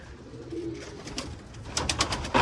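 Pigeons coo softly and flutter as they are let out, with low cooing and brief wing claps building toward the end, close and without talk.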